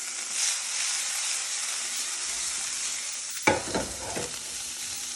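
Artichokes, added to a pan of capers, sizzle and fry steadily, joined by a sharper burst of stirring and spattering near the end.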